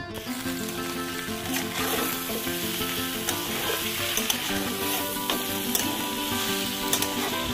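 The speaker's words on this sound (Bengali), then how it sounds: "নুন হলুদটাকে সবজির সাথে ভালো করে মিশিয়ে নিয়ে" Drumstick, potato and brinjal pieces with turmeric and salt sizzle loudly in a pan, the steady hiss broken by repeated scraping stir strokes and light clinks of the spatula.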